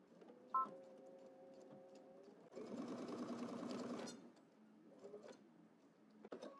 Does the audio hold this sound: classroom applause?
no